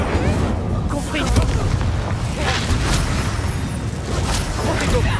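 Fiery blasts and rumbling booms from a Confringo explosion spell cast in the Hogwarts Legacy video game, loud and continuous, with dense crackling impacts layered over game noise.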